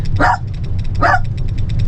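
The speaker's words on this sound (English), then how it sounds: "We're not going to have all that barking" Two sharp dog barks close by inside an RV, about a second apart, over a steady low hum, with no voices.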